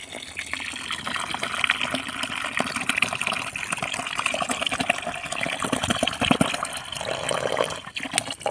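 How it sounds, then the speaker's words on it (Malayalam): Vinegar pours from a bottle into a bucket with a steady gushing, splashing fill that runs for about eight seconds, moderately quiet and close, with no talk over it. "ഇനി വിനാഗിരി നമ്മൾ ഈ ബക്കറ്റിനകത്തോട്ട് ഒഴിക്കുകയും"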